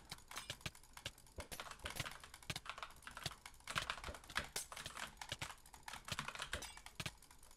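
Rapid butterfly clicking on a gaming computer mouse, a dense fast rattle of sharp clicks running continuously and close up, with no talk.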